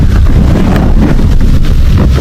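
Steady wind gusting across an outdoor terrace, a constant broadband rush with low rumbling buffets against the microphone throughout, no voices.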